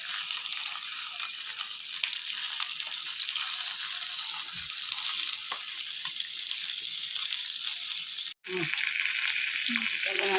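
Prawns sautéing in coconut oil on a banana leaf over a tawa give a steady close sizzle and hiss throughout, with a brief break near the end and a few soft stirring knocks.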